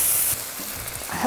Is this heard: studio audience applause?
no